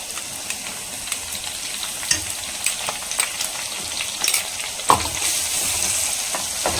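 Ground garlic added to shallots frying in hot oil, producing a dense, steady sizzle close by with scattered crackles and spoon scrapes as the mixture is stirred.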